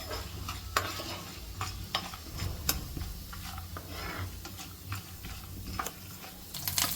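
Chana dal, peanuts and cumin seeds frying in oil in a pan, a quiet close sizzle broken by frequent sharp ticks and stirring clatters at irregular intervals, with no talking.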